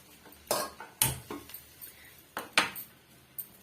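A metal kadai set down on a stove with a few light clanks and clinks, quiet and close, with small knocks spaced unevenly.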